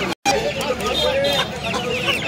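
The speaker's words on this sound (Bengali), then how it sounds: "এটা অনলি মোরগ আছে" Roosters and hens at a poultry market in Uluberia, clucking continuously nearby with a busy market murmur behind.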